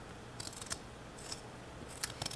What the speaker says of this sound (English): So the little spoon is scraping the skin, and I'm getting sprayed with ginger juice